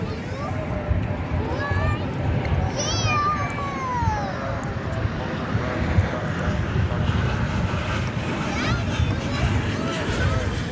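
A Frontier airliner bound for Nashville taxis or departs at Dallas Fort Worth airport on a Saturday night, its steady engine roar loud throughout, with a cat-like meow and a background voice heard over it.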